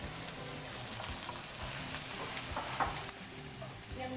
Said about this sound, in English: I'm just going to put in my beaten eggs right into the pan right here.